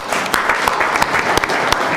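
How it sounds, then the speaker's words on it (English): An audience at a social business design lab session claps together, a dense, loud patter with a few sharper individual claps standing out, sustained evenly for about two seconds. "Let's give a big applause to him."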